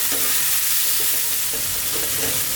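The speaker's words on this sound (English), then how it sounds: "we're going to cook this for about 4 minutes. So we really cook the tomatoes down." Finely chopped tomatoes cook down in a pan for Ethiopian scrambled eggs, giving a continuous, even, loud sizzle and hiss with faint bubbling underneath and no voices.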